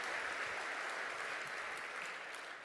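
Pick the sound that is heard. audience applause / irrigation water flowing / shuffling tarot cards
audience applause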